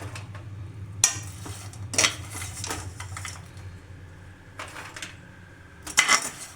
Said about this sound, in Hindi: सब कुछ फ्राई हो चुका है, अब इसको हम बाहर निकाल लेते हैं।